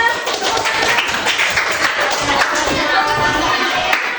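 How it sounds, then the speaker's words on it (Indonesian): Children in a primary school classroom clap their hands together, a dense, lively patter of many small hands lasting several seconds, fairly close and without talk. "Ya, tepuk tangan"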